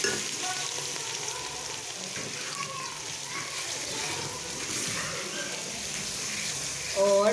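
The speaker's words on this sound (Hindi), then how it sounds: "अदरक का पेस्ट डाल के और इसको भूनना है।" Ginger paste fries in a pan as the masala base for a chicken and white chickpea curry, producing a continuous, moderately loud sizzle with stirring, while people talk throughout.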